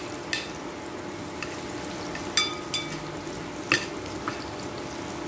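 Garlic frying in a pan for a Marathi dry fish dish, a steady soft sizzle broken by several brief sharp clicks and spatula scrapes, close and moderately quiet.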